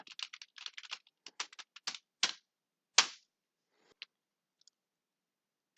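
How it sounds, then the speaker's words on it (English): A web address is typed on a computer keyboard in quick runs of crisp, close key clicks, with a few louder single strokes toward the end and then near silence. "the only thing you need to do is to type in the address bar here app.metashare.com"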